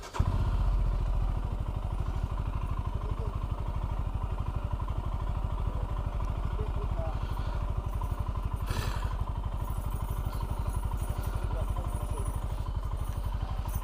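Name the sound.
Royal Enfield Himalayan motorcycle setting off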